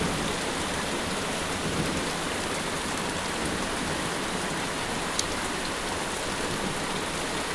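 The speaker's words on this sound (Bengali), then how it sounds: "দেখো কি জোর বৃষ্টি শুরু হয়ে গেছে" Heavy rain pours down steadily, a dense, continuous hiss of drops on surfaces with no pauses, loud and close throughout.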